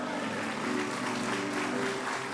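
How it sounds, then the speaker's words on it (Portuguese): A church congregation applauds in a brief, steady burst of clapping lasting a couple of seconds, moderately loud with a roomy crowd feel. "dê um forte aplauso ao Senhor"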